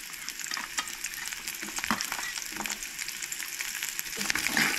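Onion and garlic roasting in oil in a pan for Goan sprouted moong curry, a steady close crackling sizzle with scattered stirring scrapes throughout, no voices.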